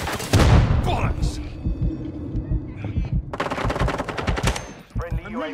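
Rapid automatic gunfire from a Call of Duty online match, loud bursts of rattling shots with short gaps, dense and close throughout, with brief game voice callouts mixed in.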